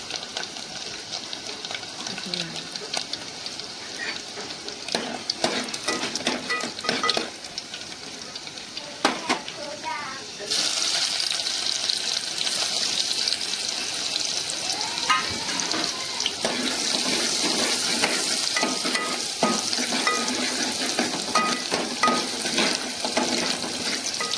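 Onion and garlic fry and sizzle in a pan for a Malvani home-style Sunday fish thali, with a spoon stirring now and then; a steady hiss grows louder partway through and carries on alone.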